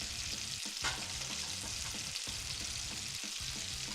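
Fat frying in a pan, a steady close sizzle and crackle that carries on without a break and with no talking.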